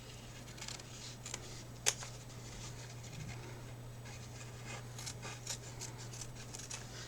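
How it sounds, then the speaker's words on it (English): Scissors snip through paper for an altered book craft project, faint scattered cuts and rustles, one sharper snip early, over a low steady hum. "take my scissors and I'm going to cut it out"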